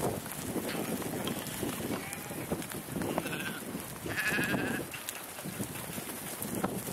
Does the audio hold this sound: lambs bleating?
yes